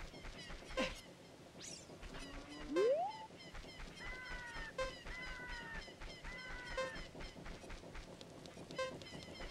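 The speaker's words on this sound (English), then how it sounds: "What if I take a chicken? I'll do the chicken jump" Chicken (cucco) squawks from the video game Ocarina of Time ring out as repeated short, harmonic honking calls with a rising pitch swoop, set against busy game music and effects at moderate loudness.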